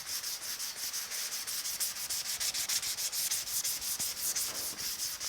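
Hand sanding primer on a 1950 Chevy truck hood with 220 grit paper, a close, even rhythmic scratching of quick repeated strokes with no voices.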